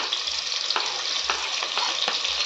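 Chopped onions, chillies, carrots and capsicum frying in a pan for a paneer veg biryani: a steady close sizzle with a few soft scraping stirs, and no talk over it.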